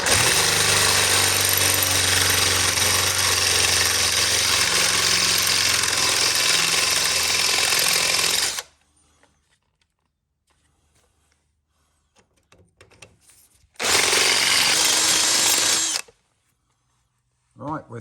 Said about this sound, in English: I'm just going to bring the drill in at an angle.